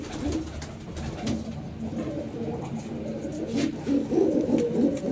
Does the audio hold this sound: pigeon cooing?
yes